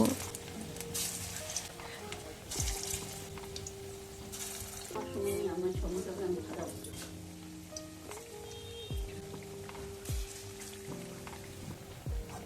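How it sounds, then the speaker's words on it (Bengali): Spinach and masoor dal fritters sizzle in a pan of hot oil, a soft, steady crackle with occasional clinks, over a faint background hum. "বাকি যে পালং শাকগুলো আছে একইভাবেই বড়া করে ভেজে নেব"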